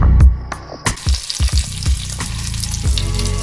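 Rolled tortillas filled with chicken and cheese fry into golden flautas, loud crackling oil with sharp popping bursts early on settling into a dense, steady sizzle.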